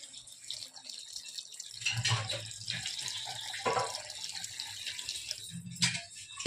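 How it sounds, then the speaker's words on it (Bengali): Hot water being poured into a pan of pav bhaji, a steady watery splashing and trickling that swells and fades over several seconds, with brief bubbling bursts near the start and end. "গরম জল দিয়ে দেবো।"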